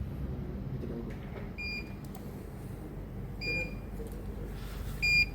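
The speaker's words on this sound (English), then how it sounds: "You can hear a beep." A Raspberry Pi relay setup gives short, thin electronic beeps as a button is pressed. Three faint, brief tones are spaced about two seconds apart over a steady low background hum.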